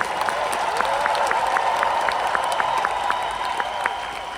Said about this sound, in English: Clap your hands if you believe that's possible.